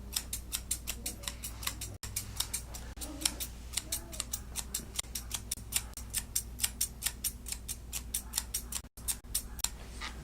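Thinning shears snip repeatedly through a West Highland White Terrier's fur during grooming, producing crisp, close metallic clicks in a quick, fairly regular rhythm, with faint background hum and no talking.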